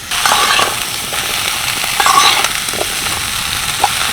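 Spicy grated mango pickle is stirred in a hot pan, giving a steady close sizzle with soft scraping strokes throughout and no voices.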